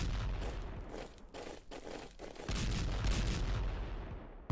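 Artillery and gunfire from the World War I strategy game Strategic Command WW1, a sustained rumbling barrage of booms and shots, loud and dense, ending in a sharp final blast.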